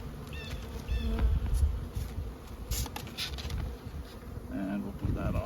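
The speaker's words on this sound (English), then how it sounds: "So the name of this race of bee is Golden West, bred by Randy Oliver" Golden West honeybees swarm around a bee yard, their dense buzzing close and continuous, swelling and fading as individual bees pass near.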